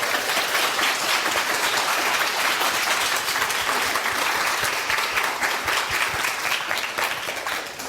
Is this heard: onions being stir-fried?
no